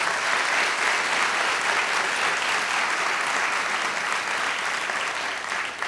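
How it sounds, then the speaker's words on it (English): A large audience at a community charity awards celebration gives a sustained round of applause, dense steady clapping filling the room from start to finish with no talk over it. "let's give her a round of applause for that"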